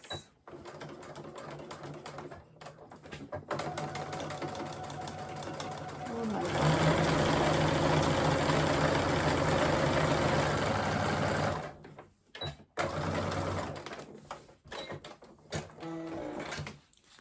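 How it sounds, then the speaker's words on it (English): A sewing machine stitches a 10 mm French seam in reverse, its rapid needle chatter running in short bursts and then one long steady run, with pauses between. "So I'm going to sew in reverse."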